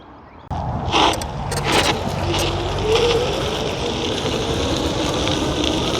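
A dual Varstom motor electric bike is ridden off, bringing a steady whine with rushing wind and rolling tire noise on gravel at 65 psi, loud and continuous after a brief quiet start.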